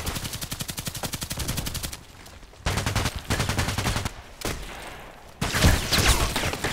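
Glock 18 automatic pistol fire in the online shooter Contract Wars, rapid full-auto bursts of sharp cracks in three long strings separated by brief pauses, loud and close.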